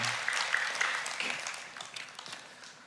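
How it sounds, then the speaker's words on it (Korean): A church congregation applauds during a Sunday worship service, a brief burst of clapping that starts full and gradually thins out, fairly distant and moderately quiet. "크게 한번 박수 한번 해주십시오"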